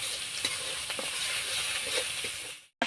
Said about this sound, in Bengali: আমি সব মশলাগুলোকে একটু ভালো করে কষিয়ে নেবো